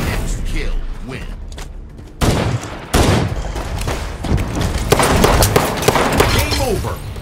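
Halo 5 gameplay with rapid gunfire bursts, sharp sniper rifle cracks and clattering effects, loud and busy, with abrupt cuts and brief quieter gaps between shots.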